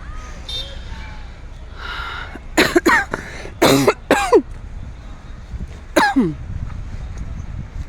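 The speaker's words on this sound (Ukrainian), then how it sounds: "А я досі кашляю." Several harsh coughs close by, a pair followed by a cluster and then one more, over a low background hum.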